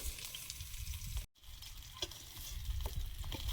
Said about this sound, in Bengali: মাছ ভাজাগুলো তুলে নিচ্ছি।